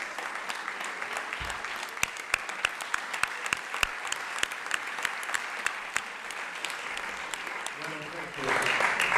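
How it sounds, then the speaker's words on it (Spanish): An audience at a talk on a Freedom Flotilla boat's stopover breaks into applause, with sparse individual claps building into steady clapping for several seconds and a speaking voice at the end. "un aplauso para ella"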